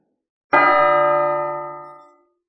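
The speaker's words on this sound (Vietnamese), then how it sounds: "Tiếng chuông thật lớn vang vọng khắp bát vực" A single loud bell strike rings out clearly and then decays over about two seconds into silence.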